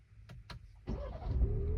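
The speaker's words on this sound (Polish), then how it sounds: "swobodnie uruchomić silnik" A BMW 3 Series starts up: two short clicks, then the engine cranks and catches with a rising rumble that settles into a steady idle, with no talking.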